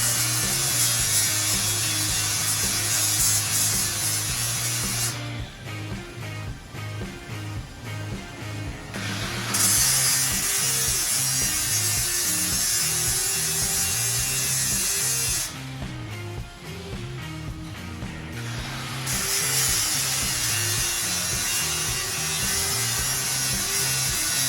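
A grinder polishes a steel weld bend test coupon smooth, running as a loud, continuous whine with two stretches where the pitch drops and the tone roughens as it bears into the metal.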